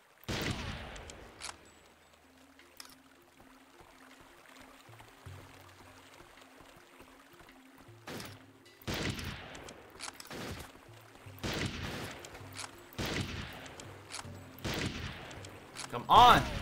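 Gunfire in the video game Turok 3 crackles in several loud, sharp bursts scattered across the clip, with a low game hum between them.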